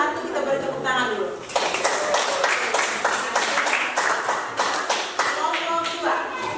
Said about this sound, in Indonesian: Kelompok 1 kita beri tepuk tangan dulu.